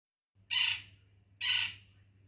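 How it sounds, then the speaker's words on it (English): A woodpecker gives two harsh, squawking calls about a second apart, fairly close and clear, over a faint low hum in a quiet morning outdoor setting. "that's the sound of the woodpecker, woody woodpecker"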